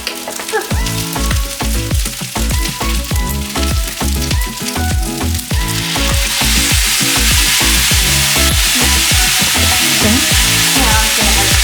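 Egg fried rice with corn sizzles loudly in a pan, a steady dense frying crackle with stirring scrapes that grows fuller and more continuous partway through.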